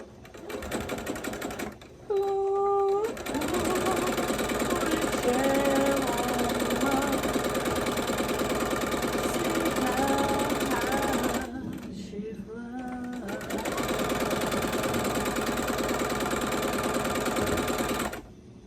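A sewing machine stitches fabric in long, steady, fast runs, close and loud, pausing twice briefly, with faint background voices between the runs.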